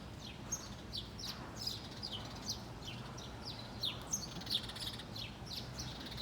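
Two small birds chirp and squabble outdoors, trading quick, repeated tweets in an irregular back-and-forth over a low, steady background rumble, fairly faint and at a middle distance.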